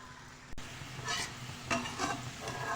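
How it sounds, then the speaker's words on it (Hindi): Onions frying in hot oil in a pan for matar aloo pulao, a steady close sizzle with soft crackling bursts swelling and fading, briefly broken by a sharp tap near the start. "गरम ऑयल के अंदर आप प्याज डाल दें"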